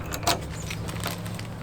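Keys turning in the lock of a Huracan Fabrication tailgate storage box on a Chevy pickup, a brief close jingle and metallic click over a steady low engine idle hum.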